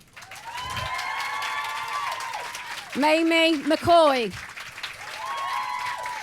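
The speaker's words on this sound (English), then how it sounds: "Please welcome on stage with a big round of applause" An audience applauds and cheers as the cast of The Musketeers is welcomed on stage, steady clapping under a host's announcing voice, rising with loud whoops and shouts midway.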